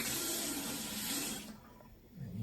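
Water running steadily from a bathroom sink tap in a Russian apartment, a close hiss that cuts off partway through and leaves a quieter room hum.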